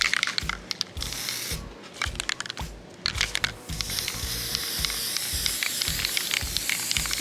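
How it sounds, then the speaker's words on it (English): Bursts of close aerosol spray painting on furniture legs, short hissing puffs at first, then a longer sustained spray with faint scraping between. "I'm just gonna rough them up a little bit before I spray paint them."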